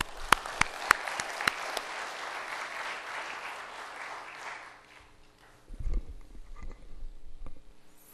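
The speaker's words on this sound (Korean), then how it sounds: "마지막 힘내시라고 우리가 박수로 환영하겠습니다." A room full of people at a church revival meeting applauds steadily, a few sharp claps standing out at the start, before the clapping fades and some low shuffling noise follows.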